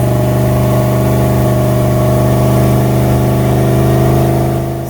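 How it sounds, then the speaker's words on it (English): A freshly rebuilt small block Chevy V8 runs loud and close on red hot headers, a steady rumbling idle with a faint rise in revs, alone with no talk. "he built this engine and it started right up and it ran awesome"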